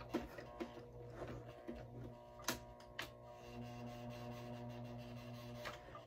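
A sewing machine stitches a bag lining at a slowed pace, giving a steady mechanical hum with faint rhythmic ticking and a few sharper clicks, running alone with no talk.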